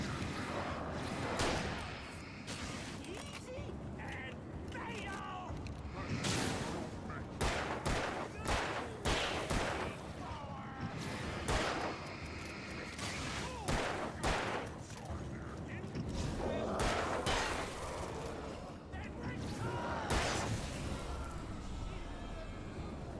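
Repeated gunshots in the Alan Wake game crack out in sharp, uneven bursts against a busy, rumbling background, with someone talking over the shooting.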